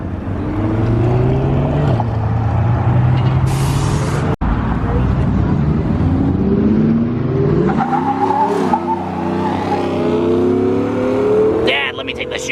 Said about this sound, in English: And he's off. Rapid blue C8.